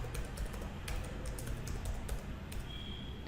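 Keys clatter on a computer keyboard in a quick, uneven run of soft taps at close range, faint and steady, with no voices.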